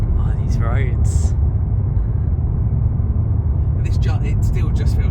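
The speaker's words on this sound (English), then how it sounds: "It still just feels like driving my Golf." Volkswagen Golf GTI Mk8.5 driving on a Lake District B-road, heard as a loud steady engine and road rumble from inside the car, with people talking over it.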